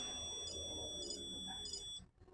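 An electronic ringing alert tone sounds in three short, evenly spaced high beeping bursts over a steady background hum, then cuts off abruptly.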